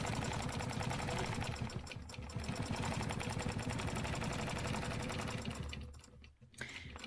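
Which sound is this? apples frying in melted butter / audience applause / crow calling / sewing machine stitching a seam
sewing machine stitching a seam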